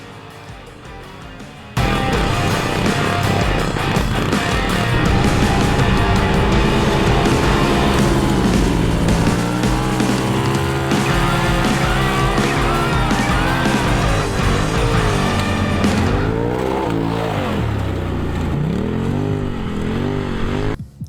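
A side-by-side off-road vehicle runs across the Coos Bay sand dunes, its engine droning loud and close almost throughout, with repeated rising and falling revs as it accelerates and eases off.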